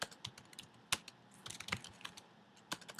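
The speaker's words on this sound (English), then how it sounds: "I can't type today." Typing on a computer keyboard: irregular clusters of sharp, close key clicks with brief pauses, fairly quiet and heard alone.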